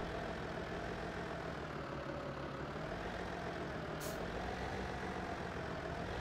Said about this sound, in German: Diese Trecker fahren erstaunlich schnell dafür